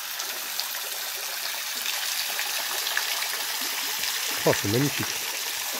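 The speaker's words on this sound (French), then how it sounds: "Juste en dessous de la cascade" A cold mountain waterfall in the wild pours as a steady, full hiss heard from just below it, with a person briefly speaking in an admiring tone near the end.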